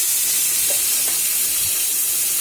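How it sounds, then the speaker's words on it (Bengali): Fish rubbed with salt and turmeric fries in hot mustard oil with a loud, close, unbroken hiss and sizzle, a few faint stirring ticks and no speech. "তেলটা গরম হয়ে আসলে ওর মধ্যে আমাদের নুন হলুদ মাখানো যে মাছগুলো আছে ওগুলো একটা একটা করে ছেড়ে দেবো"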